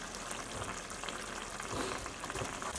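Mushroom vegetarian chilli with soy sauce just splashed into the hot pan, sizzling and frying steadily and loudly for a few seconds, with no voices.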